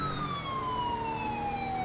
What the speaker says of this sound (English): Now you'll be able to actually hear the siren.